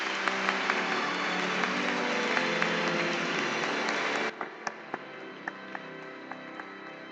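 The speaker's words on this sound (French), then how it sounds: "Je vous invite à les applaudir." Applause in a church for altar servers at an Easter Sunday Mass, a dense steady clapping from the congregation that suddenly thins after a few seconds to scattered, fading individual claps.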